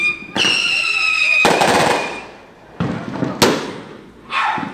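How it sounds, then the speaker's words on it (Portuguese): Fireworks being set off nearby: a shrill whistling rocket followed by sharp loud bangs and crackling bursts, several separate explosions with short gaps between them. "Esse ano não vai poder soltar fogos dessa maneira não, viu?"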